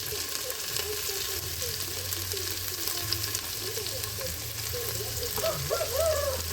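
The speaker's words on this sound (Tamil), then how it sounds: "அடுத்து வரமிளகா, இந்த அரிஞ்சு வச்ச வெங்காயத்தையும் போட்டுக்கலாம். சின்ன வெங்காயம்," Dried red chillies and chopped shallots fry in a pan of oil for a duck curry, giving a steady, close crackling sizzle throughout with occasional stirring scrapes.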